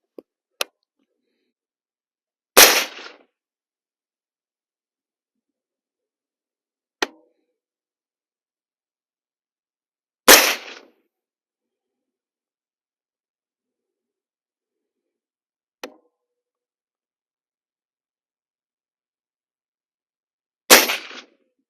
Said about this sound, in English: shooting a suppressed AR, you get some pop